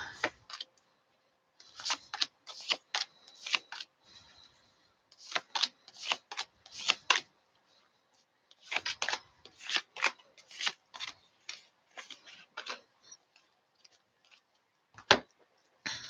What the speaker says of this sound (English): Let me put down some cards for you.